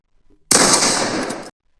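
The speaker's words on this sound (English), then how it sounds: "when I shoot my gun" A loud, dense burst of rapid video game gunfire lasts about a second, starting abruptly and cutting off sharply, with silence before and after.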